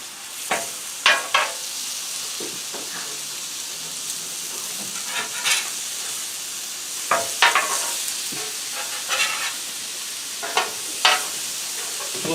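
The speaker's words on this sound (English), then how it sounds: "let's give these steaks a flip" N.Y. strip steaks sizzle on a Blackstone griddle, a constant bright hiss broken by sharp scrapes and taps of a spatula as they are flipped.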